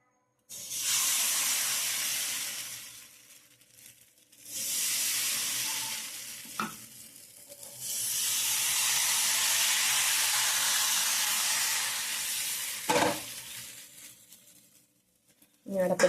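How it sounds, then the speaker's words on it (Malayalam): Appam batter sizzling in a hot pan on the stove, with long bursts of loud, steady frying hiss broken by short pauses and a couple of clanks and scrapes. "അപ്പോൾ ചൂടായിട്ട് നമുക്ക് അതിന് മാവ് ഒഴിക്കാം"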